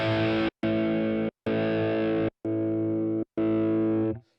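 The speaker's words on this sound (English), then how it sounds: "you can see with each press of the switch, it's actually muting the sound very briefly" A sustained distorted electric guitar chord held steady and cut to silence by five quick C2 switch presses, each press leaving a brief gap before the chord returns, ending with a short fade.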